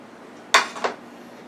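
Plates and cutlery clink while oven-fried pork chops with sauteed onions and rice are served: two sharp, close metallic-ceramic knocks a quarter second apart, the second softer, with no talking.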